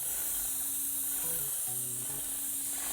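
Sprayer hissing steadily as limewash is applied to a brick house, a continuous close, fairly loud spray hiss with faint tonal hums underneath and no talking.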